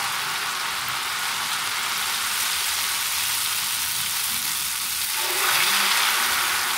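A Rajasthani sweet fries in hot oil with a continuous bright sizzle and crackle that swells louder near the end, close by and with no talking.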